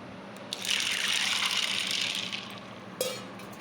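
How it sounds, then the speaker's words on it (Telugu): Water pours in a steady gushing stream for about two seconds, splashing into a container of chickpeas set to soak, followed by a small clink. "ఇప్పుడు వాటర్ వేసుకొని నానబెట్టుకుందాం"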